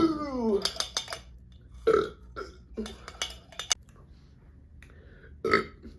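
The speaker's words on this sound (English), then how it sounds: "I'm gonna be burping all night now" A young woman burps repeatedly after a mukbang meal, several short croaky belches at irregular intervals, close and fairly loud, with breathy sounds between them.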